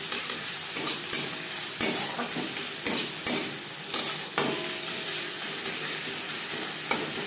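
Ginger and green chili paste sizzles gently over a low flame, a constant hiss broken by repeated sharp clicks and scrapes of a spatula stirring against the pan.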